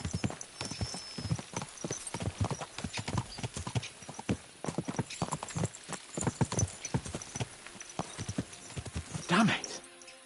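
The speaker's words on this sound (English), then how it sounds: "Let's really spur these horses on, eh?" Horses clip-clopping at a brisk, irregular pace, hooves close and distinct, with a horse's whinny near the end and voices now and then.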